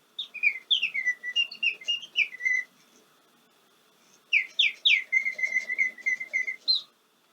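An electronic bird call device plays bright, whistled chirping phrases in quick runs of rising and falling notes. Two bursts are separated by a short pause, close and clear, with no talk.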